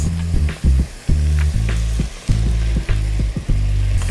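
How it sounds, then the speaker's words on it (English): Vegetables with Worcestershire sauce cook in a pan, loud close frying with bursts of hiss and a few spatula knocks, no one talking. "we're just gonna cook this up until all of the vegetables are soft"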